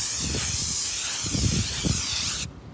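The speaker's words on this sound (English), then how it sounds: "spray it, flip it over, spray some more" Aerosol brake cleaner sprayed onto a brake rotor of a 2019 Hyundai Sonata, a steady close hiss in long bursts that cuts off sharply near the end, with faint handling noise underneath.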